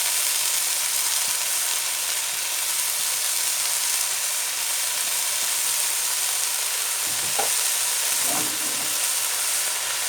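Chopped, washed spinach tipped into onions frying in a pan, giving a steady close sizzle with a couple of brief stirring scrapes near the end.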